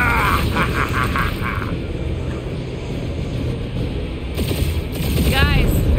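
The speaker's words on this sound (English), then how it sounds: "We're taking fire!" Enemy gunfire in the action game Guardians of the Galaxy: steady, dense weapon fire and mechanical clatter under a continuous combat din, with character voices talking over it.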